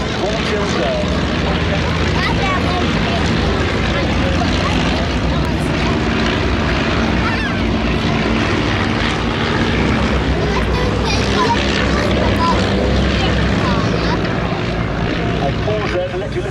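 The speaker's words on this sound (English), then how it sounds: "the glorious sound of the 9 de Havilland Gypsy Major engines" Loud, continuous drone of nine de Havilland Gipsy Major piston engines with propellers at an air show display, a thick rumbling roar that holds steady throughout, nearby and unbroken.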